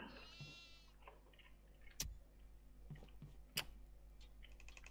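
In the horror video game Devour, a goat bleats once near the start, faint and wavering, over a low steady hum, followed by scattered clicks and a couple of sharp knocks.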